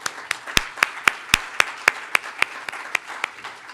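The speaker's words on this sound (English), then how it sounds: "Let's give them a round of applause." Sparse, evenly spaced hand claps ring out one after another from a small audience at a federal election candidate dialogue in Surrey. The room is otherwise quiet, with no talking over the claps.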